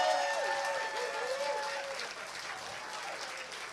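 Applause from a gala audience for a city police chief, a dense continuous clapping crowd that stays loud throughout, with cheering tones mixed in.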